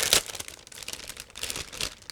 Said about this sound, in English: as you can hear, we have another plastic bag.